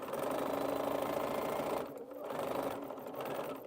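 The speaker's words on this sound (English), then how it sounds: "let's sew this. This is the top." A sewing machine stitches a quilt top, its motor whirring in a steady fast run, briefly pausing near the middle before resuming at a moderate, close level.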